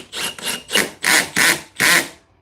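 A Milwaukee compact drill drives a Tapcon screw in six short, rasping bursts, each a second or less with brief pauses between, heard up close with no voices.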